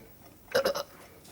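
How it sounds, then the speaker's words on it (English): A person hiccups in a quick burst of three or four close, throaty jolts, loud against a quiet room. "Hiccups always come from not eating, don't they?"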